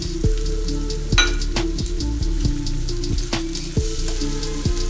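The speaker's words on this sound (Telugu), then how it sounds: "ఈ టమాటో పేస్ట్ పచ్చివాసన పోయే వరకు ఫ్రై చేసుకోవాలి." Tomato paste fries in a pan for a chikkudukaya masala curry, a soft steady sizzle with scattered light pops beneath a low rhythmic hum, close and alone.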